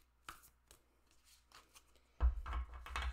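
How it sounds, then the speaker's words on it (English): A tarot deck is shuffled end to end, giving a close, loud burst of riffling card clatter over the final second after a few faint taps and rustles. "you could shuffle it end to end this way"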